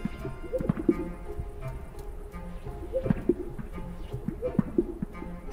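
Male sage grouse displaying at a spring lek on a Yellowstone meadow, giving repeated soft popping and whooshing bursts in pairs every couple of seconds, close and clear over quiet open-air ambience.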